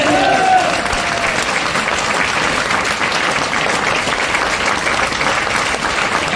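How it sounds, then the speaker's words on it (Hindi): Loud, sustained clapping from an audience at a motivational talk, dense and even for several seconds with a brief voice at the very start. "एक बार जोरदार ताली बजा सकते हैं।"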